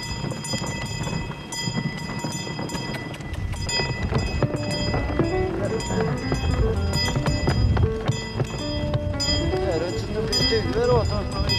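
A horse's hooves clip-clop steadily as it hauls firewood over difficult wooded terrain, with a continuous rumbling haul and scraping, with voices talking over it.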